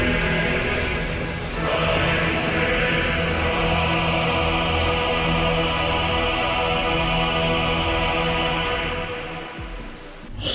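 Steady rain pours over the Hidden Rain village in Naruto Mobile, a constant dense hiss that holds evenly for about ten seconds and then dips slightly near the end, with no voices.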